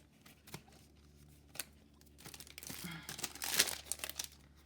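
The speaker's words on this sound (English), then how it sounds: "gotta get it out of the packaging" Chipboard stickers are worked out of crinkly plastic packaging, with scattered crackles and tugs that build into a denser, louder burst of rustling and tearing close up.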